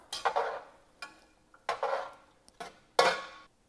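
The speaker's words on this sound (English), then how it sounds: "go ahead and drop your vegetables in. Comme ça. Mix that around." Ground meat and vegetables for Cajun egg rolls are stirred in a pan, giving several scraping, clattering strokes of a utensil against the metal in separate bursts, close and clear.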